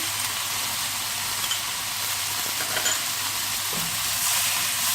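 Vegetables fry with soy sauce and black pepper in a pan for Chinese-style sweet and sour chicken, giving a steady, close hiss and sizzle throughout with no talking.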